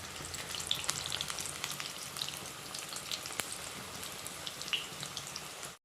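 Stuffed bitter gourd fries in hot oil in the manner of pakora, giving off a steady, dense crackle and sizzle with scattered sharper pops throughout, fairly close and alone with no talking.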